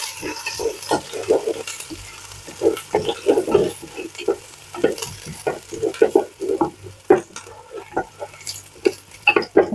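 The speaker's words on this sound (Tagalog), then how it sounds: "Haluin lang natin. Tayo lang natin mag-brown yung sibuyas." Onions browning in olive oil are stirred in a pan, with a soft continuous sizzle under frequent close scraping and clacking strokes of a utensil.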